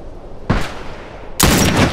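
Military rifle fire in The Last of Us: two sharp, loud reports, a short crack and then a longer ringing blast a second later, over quiet game ambience.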